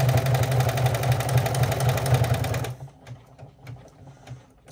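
An embroidery machine stitching a strap makes a fast, steady, buzzing rattle for just under three seconds, then stops abruptly, leaving only faint clicks and handling noises.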